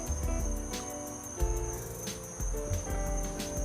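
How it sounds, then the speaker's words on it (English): Crickets chirp in Florida woods at night, a continuous high, thin trill hanging over low rumbling background noise, fairly quiet and unbroken. "you can hear the crickets."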